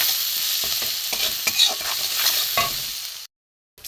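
Grated ginger, salt and garam masala are stir-fried in a pan: a loud close sizzle broken by repeated scraping stirs, then it cuts abruptly to silence near the end.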